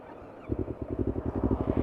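Exhaust of an older Yamaha R25 motorcycle fitted with a 35 cm Kia Speed muffler with full baffle, idling as a close, soft, evenly pulsing low burble that starts half a second in after a quiet moment.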